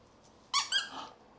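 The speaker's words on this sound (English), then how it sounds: "Oh my God, it squeaks too." A squeaky plush toy gives two quick, high, close squeaks in a row, the second trailing off, in an otherwise quiet room.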